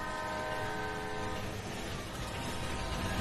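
Several trains rumbling through a tunnel in a Roblox video game, a dense, steady wall of mechanical noise with sustained horn-like tones layered throughout, loud and continuous with no voices.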